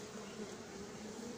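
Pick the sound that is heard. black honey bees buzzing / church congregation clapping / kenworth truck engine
black honey bees buzzing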